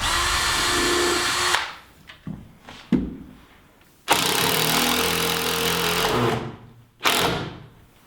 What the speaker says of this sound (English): I'm going to use a 3/4 inch drill bit